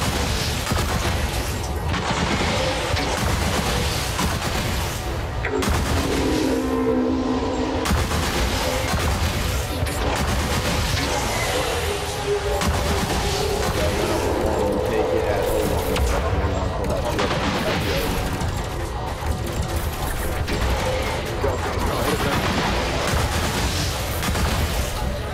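Weapons fire from spacecraft in Elite Dangerous during a fast duo fight against a Thargoid Hydra, a dense, constant barrage of shots and booms filling the whole stretch under game noise.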